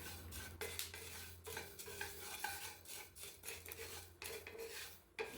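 Whole spices being dry-roasted with no oil in a hot kadai, stirred with a utensil: steady scraping and rattling strokes with a faint sizzle, close and continuous, no voices.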